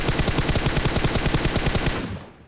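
Rapid automatic gunfire from a weapon in the battle-royale game BGMI (PUBG Mobile), a loud sustained spray of evenly spaced shots lasting about two seconds before cutting off.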